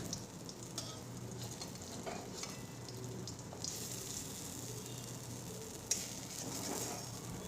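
Raw banana cutlets fry in a pan of oil with a steady, close sizzle throughout, and a sharp clack near the end as a spatula turns them.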